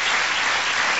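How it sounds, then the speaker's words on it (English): A studio audience applauds a magician's act in a talent show, a dense, steady wash of clapping that holds at full strength for about a second with no voices. "Give him a round of applause."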